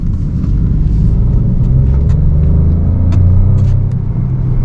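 A 2023 Peugeot 208 Allure with the 1.2 PureTech 100 hp petrol engine drives at low, steady speed, giving a continuous low road and engine rumble with faint interior clicks, without speech.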